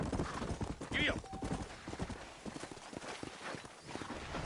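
Horse hooves clop in a rapid galloping rhythm along a trail in Red Dead Redemption, with a brief whinny, while speech is heard over them.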